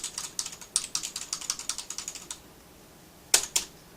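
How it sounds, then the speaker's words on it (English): Rapid, clacky typing on a traditional mechanical-sounding computer keyboard, a steady run of keystrokes for about two seconds, then silence and two louder final key hits. "I don't know if you can hear that, but that's my traditional keyboard."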